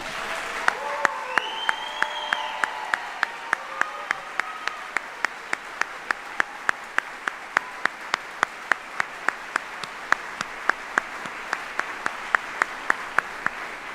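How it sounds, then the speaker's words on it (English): Audience applause at an Army general officer retirement ceremony in July 2024, sustained, steady clapping from a large crowd that holds for the whole stretch, loud and even. "Ladies and gentlemen, please, again, join me in a round of applause for these 35 great soldiers."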